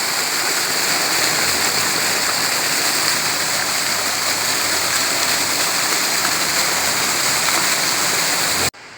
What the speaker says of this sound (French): Au bord de la fontaine.